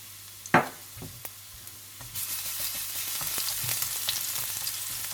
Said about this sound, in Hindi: जैसे ही ऑयल गर्म हो जाए तो आप इसमें डाल दें लहसुन और थोड़ा सा फ्राई कर दें।